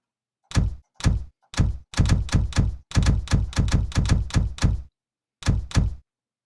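Simple one-shot drum samples triggered in Logic's Quick Sampler: a run of punchy, tight hits in an uneven pattern, some in quick clusters, with a short pause before two final strikes, clean and close with no voices.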